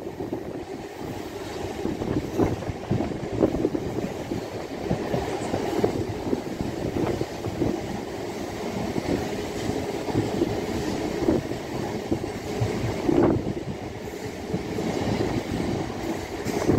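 MMTS local train in Hyderabad rolling along the track, a steady rumbling clatter of wheels with faint squeals, heard continuously from onboard for the whole stretch.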